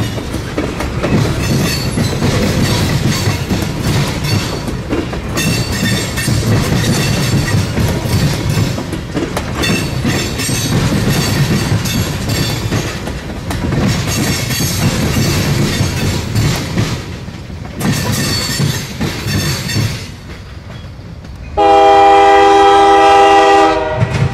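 CF&E freight train led by a pair of Dash 8 locomotives passes close and loud, a sustained rumble and rail clatter for about twenty seconds, ending in a blast of the horn.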